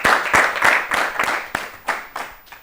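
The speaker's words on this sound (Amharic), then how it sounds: "አጨብጭቡላት ለፍቅርተ በደንብ።" An audience claps for a contestant on a children's quiz show, a run of about nine loud, close claps spaced fairly evenly, with the last few more scattered.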